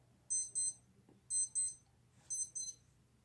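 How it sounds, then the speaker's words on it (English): A wristwatch alarm beeps in three short bursts of quick double high-pitched beeps, fairly faint against a low background hum. "And I apologize for my watch beeping."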